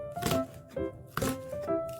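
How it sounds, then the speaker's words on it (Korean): A knife slices green onion diagonally in about four evenly spaced, crisp strokes on a board, close and fairly quiet, with a soft tonal background underneath. "대파를 어슷 썰게 해줍니다"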